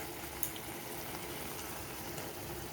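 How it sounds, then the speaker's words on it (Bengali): Poppy seed paste bubbles in a pan, a steady, soft simmering hiss with faint pops throughout and no voices. "পোস্তটা দিয়ে কিছুক্ষণ আমি ভালো করে ফুটিয়ে নিয়েছি"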